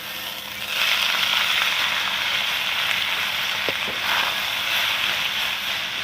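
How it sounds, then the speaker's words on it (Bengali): Drumstick leaves tipped into a wok over browned garlic set off a loud, steady hiss of frying that starts abruptly and holds for several seconds, close and without talk. "এবারে দিয়ে দেবো সজনে শাকটা, দিয়ে দেবো কড়াতে"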